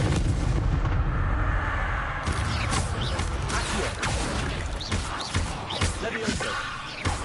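A fire spell cast in the video game Hogwarts Legacy bursts out as a loud, dense roar of crackling blasts, dipping briefly before surging again amid a busy game soundscape.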